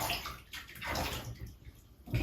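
Water sloshing and splashing in a bath tub while a chicken is bathed, with soft gurgling movements close by and no voices.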